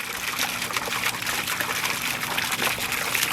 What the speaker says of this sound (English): you can see it's really like moving the surface of the water, making a lot of air